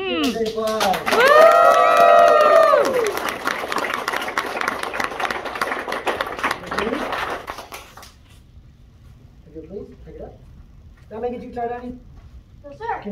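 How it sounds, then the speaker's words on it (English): Crowd at a martial arts red belt test claps and cheers loudly, with shouting voices rising over the clapping before it dies away. Scattered voices follow after a short lull. "Give it a big applause."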